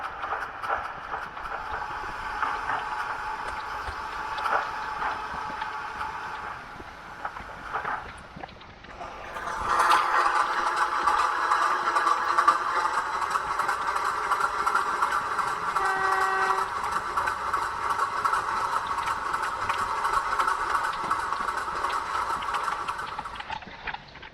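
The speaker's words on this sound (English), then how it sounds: "As the sound of a pair of class 25 diesel engines fades away" A pair of class 25 diesel locomotives pass by on a railway line: a faint distant rumble at first, then a loud, sustained engine roar and rolling drone that slowly fades at the end, with no voices.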